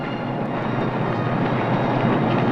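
A London Underground train at Piccadilly Circus station in 1967 rumbles along with a steady, loud rolling roar and faint rhythmic clicks of wheels on track, with no voices.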